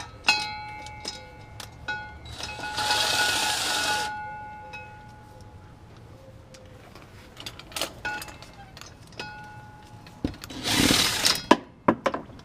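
Impact wrench loosening driveline bolts on a 2001-2004 Toyota Tacoma, two loud buzzing bursts of a few seconds each, separated by metallic clinks and tool handling.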